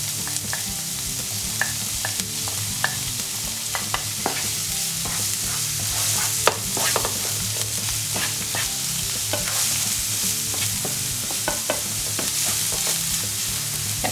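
Garlic and onion sizzle steadily in a frying pan for a vegan meatball sauce, a continuous close hiss broken by frequent short scrapes and clicks of stirring, with no voices.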